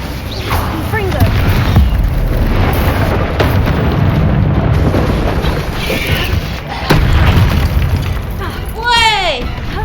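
A Confringo explosive spell in Hogwarts Legacy goes off in repeated heavy booms and bursts amid dense game effects, loud and close, with an excited voice talking over the action.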